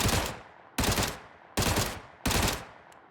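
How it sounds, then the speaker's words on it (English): A FAMAS assault rifle fires in PUBG, four loud, evenly spaced bursts of gunfire, each cracking sharply and trailing off before the next, with no voices. "Here's your single fire, burst fire"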